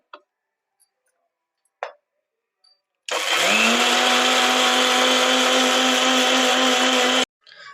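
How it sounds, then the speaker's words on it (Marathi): Mixer grinder coarsely grinding cooled roasted spices for an amla and green chilli pickle: a few faint clicks and taps, then the motor starts with a rising whine and runs loud and steady for about four seconds before stopping. "आता मिक्सरला बारीक करूया"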